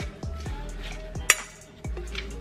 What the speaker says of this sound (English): Then I'm gonna put it in the salad. And then give it a good stir.